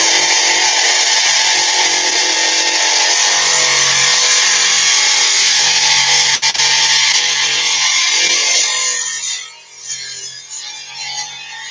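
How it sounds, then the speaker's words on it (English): A power grinder grinds stone down into a round shape, a loud, continuous rasping whine that holds steady for about nine seconds before tapering off and fading. "Now, as you can see, we're starting to get some shape to it. We'll grind that all the way down."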